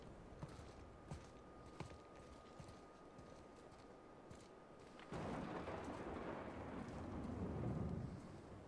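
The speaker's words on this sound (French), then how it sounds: "Personne a remarqué qu'il y a un orage maintenant ?" A thunderstorm in the God of War video game: soft rain and low rumbling with scattered sharp knocks, swelling into a louder rolling roar of thunder about halfway through, with no speech.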